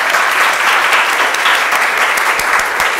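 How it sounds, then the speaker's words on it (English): A conference audience at a talk on divestment and mission-aligned investment breaks into dense, loud applause, continuous and even, with no voices rising above the clapping. "Give yourselves applause."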